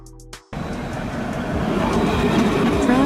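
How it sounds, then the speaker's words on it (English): A tram train, built to run on both city tram tracks and main railway lines, rolls along with a steady broadband rumble that swells in after a brief quiet start and holds loud and close. "A train that can run on both city tram tracks and main railway tracks"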